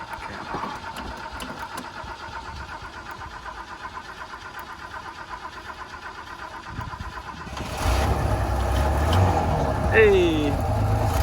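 A panel van's engine, after its fuel filter has been primed by hand, cranks over and then catches at about the eight-second mark, settling into a loud, steady running rumble close by.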